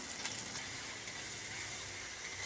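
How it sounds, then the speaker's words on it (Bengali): Spices with tomato and chili frying in a pan for a meat curry, a constant broad sizzling hiss up close with no talking. "এবার মশলাটা কষানো হচ্ছে"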